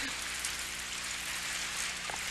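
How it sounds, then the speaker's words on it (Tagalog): Steady rain falling and pattering on a surface, a continuous soft hiss without any voices. "Umuulan!"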